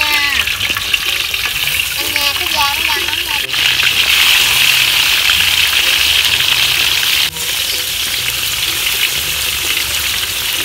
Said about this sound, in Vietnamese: Giờ mình sẽ đem đi chiên nè, mình chiên tươi luôn.